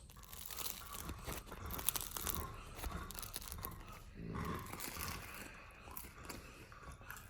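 A crusty French baguette is snapped and torn apart, giving a quiet, continuous crackling and crunching of the crisp crust up close, with no speech.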